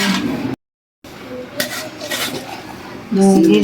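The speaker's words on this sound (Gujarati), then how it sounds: "તો હવે બધું શાકભાજી જશે હમ હવે એ બધું મિક્સ કરી દઈશું" Chopped vegetables being mixed by hand or spoon in a bowl for dhokla batter, giving close rubbing, scraping and clattering sounds, loud and continuous, interrupted by a brief silent gap, with a voice briefly audible near the end.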